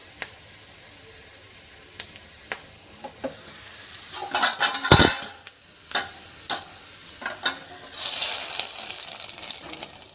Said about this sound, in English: We are just giving a tadka to the mutton sukka which we have prepared.